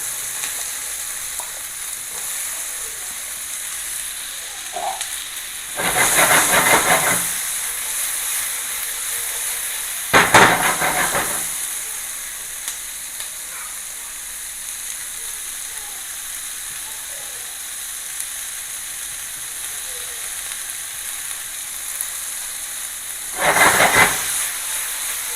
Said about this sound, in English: Saute that. We're gonna do some peppers.